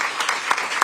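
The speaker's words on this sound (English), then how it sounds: "Let's give another round of applause to our county executive." Audience applause for a county executive at a public safety announcement event, a steady wash of clapping with a few sharper claps standing out, short and moderately loud.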